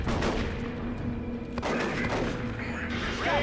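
Scouts firing in the Dawn of War 2 Elite Mod battle, with dense rapid gunfire and heavy booming explosions layered continuously throughout, loud and chaotic.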